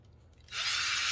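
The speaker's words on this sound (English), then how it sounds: "just drill it down." A power drill spins up abruptly and runs steadily at close range as it drives in to fix a grow light fixture to a grow station, starting after a brief quiet moment.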